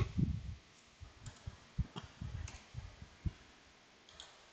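A computer mouse clicking, a scattering of soft, close, irregular clicks over a faint background hiss.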